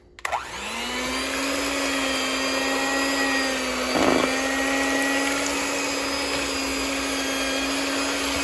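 An electric mixer whirs through sweet potato pie filling made with salt, vanilla extract, cinnamon and nutmeg, starting with a few clicks before settling into a loud, steady motor whine with a brief rougher patch midway.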